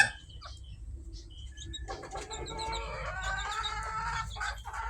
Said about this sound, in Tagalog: meron po tayong tatlo ngayon na naglilimlim na manok